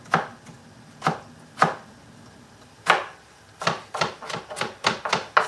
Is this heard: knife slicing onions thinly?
yes